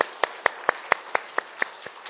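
Regular single claps, about four per second, ring out close and distinct in a church service, one person keeping a steady beat rather than a full crowd.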